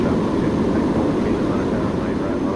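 An Airbus A350 takes off from Shanghai Pudong in the Airline Commander flight game, a steady, loud broadband engine roar that holds without a break from start to finish.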